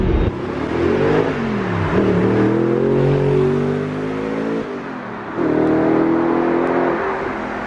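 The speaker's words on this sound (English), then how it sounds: "Listen to that V8 rumble." A deep V8 car engine rumble holds steady and loud, with revs rising and falling in smooth sweeps and a brief dip before climbing again.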